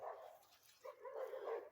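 Dogs bark and yip several times in quick, uneven bursts, fairly faint and at a middle distance outdoors in a frost-hit home garden.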